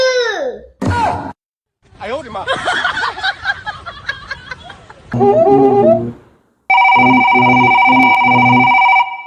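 A telephone rings in steady, insistent bursts near the end, after a stretch of talking and sighing voices.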